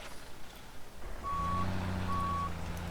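A Mack semi truck engine in Farming Simulator 17 starts up about a third of the way in, settling into a steady, loud low diesel idle, with a high beeping tone sounding intermittently over it.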